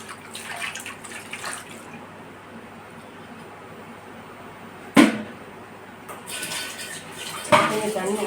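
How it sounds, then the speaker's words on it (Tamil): Water is poured into a cooking pot in a home kitchen while a traditional dish is prepared. Bursts of rushing, splashing pour come and go, with a sharp metallic clank midway and quieter stretches between. "தண்ணி ஊற்ற வேக கொஞ்சம் லேட்டாகும்ல."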